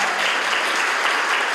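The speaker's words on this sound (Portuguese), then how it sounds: "Todos os pacientes bateram palmas pelo gesto de carinho que ela teve." Hospital cancer patients clap for a child who has donated her hair, giving dense, continuous applause that stays steady and fairly loud throughout with no voices on top.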